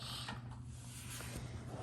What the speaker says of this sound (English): When you hear that click, it's usually when the bell was kind of supposed to go off.